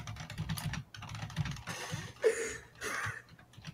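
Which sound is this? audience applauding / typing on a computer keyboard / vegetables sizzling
typing on a computer keyboard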